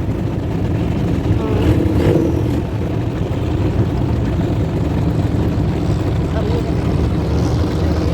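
A boat engine drones steadily and fairly close at sea in Thailand, a continuous low rumble with people talking faintly underneath.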